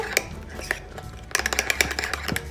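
A utensil clinks and scrapes against a bowl while mixing monk fruit into keto peanut butter cookie dough, a quiet patch giving way to a quick run of close, sharp taps.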